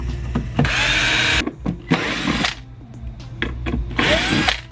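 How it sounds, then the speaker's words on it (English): A power drill bores pilot holes into a heavy-duty speaker bracket for a Porsche Cayenne, with three loud, whirring bursts of about half a second to a second, separated by brief pauses and small clicks and handling noises. "Pre-drill those now."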